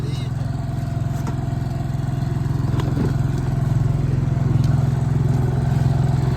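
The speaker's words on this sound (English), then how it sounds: "We got the 4-stroke on the boat." A 7 hp four-stroke outboard engine runs steadily on a boat out on the water, a loud, close, evenly chugging drone with faint clatter.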